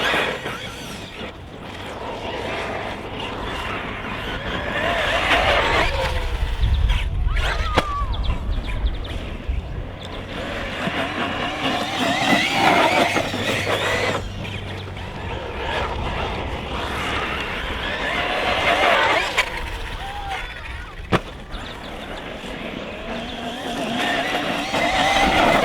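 A Team Corally Asuga XLR RC basher buggy running on 6S power with Sketer tyres, its motor whining and tyres skidding and squealing loudly and continuously over rough ground, with a few sharp knocks.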